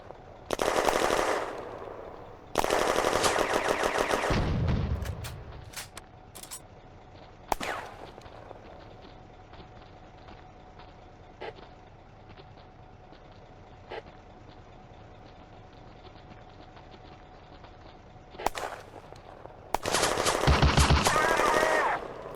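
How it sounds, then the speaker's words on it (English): German machine gun from a May 1940 wargame battle fires in long loud bursts at the start and again near the end, with isolated single shots and quieter gaps between, plus a low thump around five seconds. "A German machine gun opens up."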